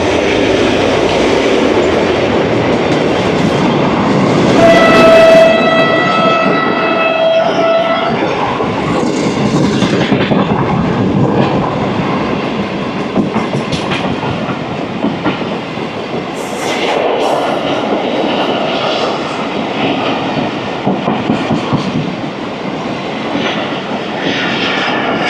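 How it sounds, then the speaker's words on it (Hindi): The 36 Down Sir Syed Express, a passenger train bound for Karachi, rolls through Jhimpir station at about 53 km/h. Steady, loud rumble and wheel clatter carry throughout, and a horn-like tone sounds briefly near the start. "36 डाउन सर सैयद एक्सप्रेस कल रावलपिंडी से चली थी,"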